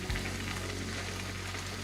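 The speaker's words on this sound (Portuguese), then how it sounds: "E vou dar agora uma selada no atum e na melancia. Com um pouco de azeite." Tuna and watermelon sear in a little olive oil in a non-stick pan, giving a steady, close sizzle with a faint thump at the start and no voices.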